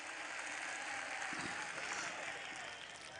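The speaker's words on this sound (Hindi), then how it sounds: "एक बार जोरदार ताली बजाए हमारी बहनों के लिए" Applause from a crowd at a live Urdu poetry mushaira in Mumbra, a fairly faint, steady wash of clapping heard from a distance, with a couple of brief thumps partway through.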